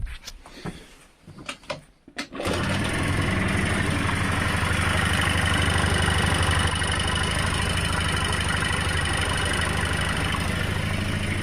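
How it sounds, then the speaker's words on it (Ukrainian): Honda Dio AF-27 scooter engine idling steadily after a repair, a loud, continuous mid-pitched drone with a slight buzzing texture that settles in after a few seconds of clattering handling noises. "Все якби скутер працює добре"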